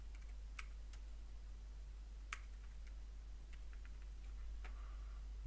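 Sparse keystrokes on a computer keyboard while entering account details in accounting software, a few isolated clicks spread over a quiet background with a steady low hum.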